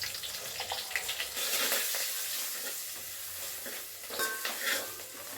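Garlic, cumin, curry leaves and turmeric sizzling as they hit hot oil for a tempering, a steady loud crackling fry with stirring scrapes, close up and without talk.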